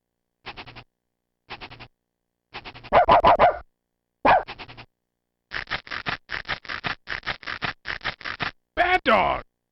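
Cartoon dog barks from the After Dark 3.0 screensaver suite come in short separate bursts at first, then a fast, steady run of repeated barks, loud and close with gaps of silence between groups.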